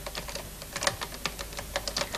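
Rapid typing on a newly designed typewriter keyboard from the mid-1980s, a steady run of close, crisp key clicks with uneven rhythm and no voices.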